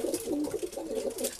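A red male racing pigeon coos close by, a soft, throaty rolling call repeated in short pulses over about a second and a half.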